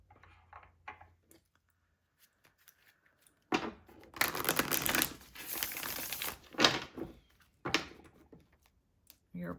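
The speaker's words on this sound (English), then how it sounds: "I do shuffle in between just to get your person's energy into the cards." Tarot cards are shuffled close up in a quiet room, a few faint taps and then a dense, crisp flurry of riffling and slapping that comes in several bursts.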